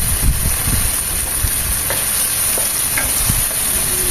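Tomatoes sizzle steadily in a hot pan as they cook down soft and release their juices, a continuous close frying hiss with occasional stirring scrapes and no talk.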